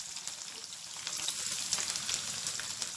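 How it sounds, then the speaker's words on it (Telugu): Onions, dried and green chillies and chana dal fry in hot oil, giving a steady, dense sizzle that keeps up without pause for a few seconds, close and with no voices. "ఇప్పుడు ఈ ఆనియన్స్ సగం వేగాలండి"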